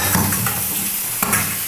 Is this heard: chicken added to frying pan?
yes